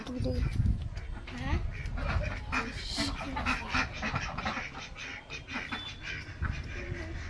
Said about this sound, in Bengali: হাঁস এখানে রেখে দিয়ে এই কার হাঁস পালে ওরা